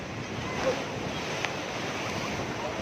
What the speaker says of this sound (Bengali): এই দেখো ঢেউ